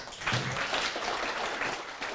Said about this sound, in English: Can we have a big round of applause for Howie?